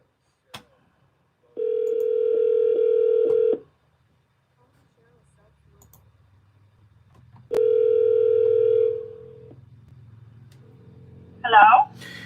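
An outgoing call placed through an Alexa smart speaker rings out: two long electronic ringback tones a few seconds apart, clear and close, followed by a brief bit of speech at the end.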